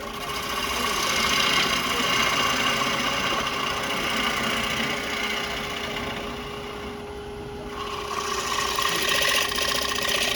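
A wood lathe spins a pedestal blank with a steady mechanical hum and rough scraping of a tool against the turning wood, continuous and close, briefly easing mid-cut.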